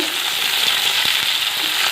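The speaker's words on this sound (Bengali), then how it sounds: "ভেজে নিচ্ছি আমগুলোকে" Mango pieces frying in a pan, giving a loud, continuous sizzle with a few soft stirring knocks throughout.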